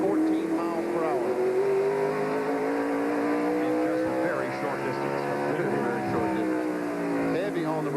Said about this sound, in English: Now he accelerates.